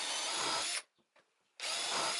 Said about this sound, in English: I am now going in with screws to secure it even better,